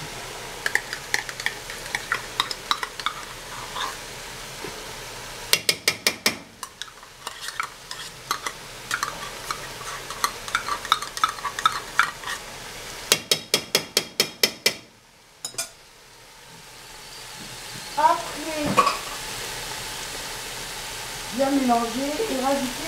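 A spoon scraping and clanking rhythmically against a pot while tomato concentrate is stirred into couscous sauce, in quick bursts of metallic strokes with pauses, plus a soft sizzle and a voice talking near the end.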